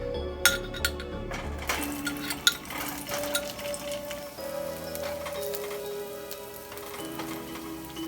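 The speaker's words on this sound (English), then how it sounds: "And now we fry up the tempeh." Marinated tempeh fries in a pan with a soft hiss and a few sharp utensil clinks near the start, under steady background music.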